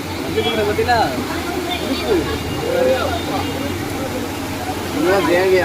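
Heavy rain and floodwater rush and splash steadily, like heavy runoff pouring along, in Thoothukudi, India, while someone speaks loudly over it throughout.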